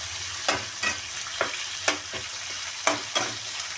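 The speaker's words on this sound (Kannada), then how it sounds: "ಈರುಳ್ಳಿ ಗೋಲ್ಡನ್ ಫ್ರೈ ಆಗೋವರೆಗೂ ಮಾಡಬೇಕು" Onions and tomato frying in a pan for vegetable uppittu, a soft background sizzle punctuated by about eight distinct scraping strokes of a spoon stirring at irregular intervals.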